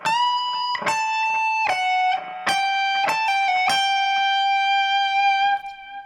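An electric guitar plays a phrase with a distorted, effected tone, a string of clear picked notes and quick legato runs that settle into a long sustained final note, close and alone.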